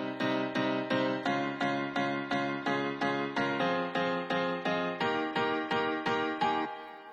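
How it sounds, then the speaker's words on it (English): A software piano from the free Keyzone Classic plugin plays a melody over chords, a steady run of evenly spaced struck notes, each one decaying quickly, moderately quiet and alone. "the 4th one is a piano from a free plugin called Keyzone Classic"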